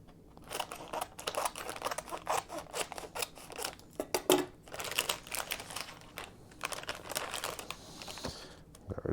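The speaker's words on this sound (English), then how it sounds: "Let's get that RGB strip opened." The packaging of an RGB LED strip is torn and crumpled open with scissor snips, a busy run of close crinkling, rustling and cutting sounds with irregular bursts throughout, and no talk.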